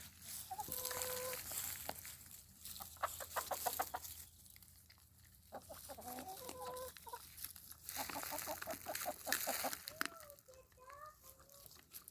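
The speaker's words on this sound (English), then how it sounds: "Our pig is eating pecans and the chickens are getting her crumbs." Several chickens cluck nearby in quick bursts, with clipped rhythmic calls and a few higher squawks, alone without talking.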